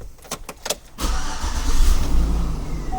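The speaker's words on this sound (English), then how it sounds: "We're going to start the engine." A 2003–2007 Chevrolet/GMC/Cadillac engine cranks briefly with a few sharp clicks, then catches and settles into a steady, close rumble.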